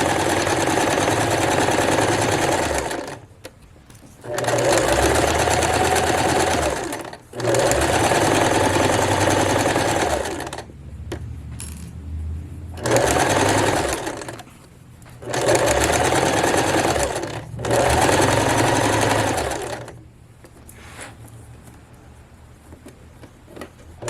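Domestic sewing machine stitching a horsehair hem on a formal dress, running close and loud in several bursts of steady rapid whirring, with short quiet pauses between runs.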